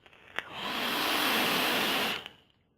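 A long exhale of vapour from an Aeronaut RDA, a loud, smooth airy rush that swells, holds for about two seconds and fades, with small clicks at the start and end.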